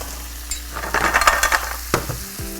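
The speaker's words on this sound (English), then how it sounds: "I'm gonna throw in the clams gently. Sounds like a bunch of rocks." Hard shells clatter and rattle into a sizzling pan, a burst of rocky clinks over steady frying, close by.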